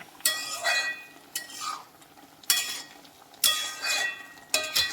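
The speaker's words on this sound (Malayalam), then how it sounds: "ഇതൊന്ന് നല്ലപോലെ ഇളക്കി കൊടുക്കാം" Curry is stirred in a pot with a spoon, giving four or five separate scraping strokes with light metallic clinks and a soft sizzle between them.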